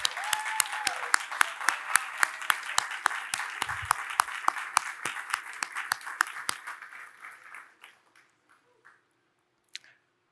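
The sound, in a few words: audience applause for a mother and stepdad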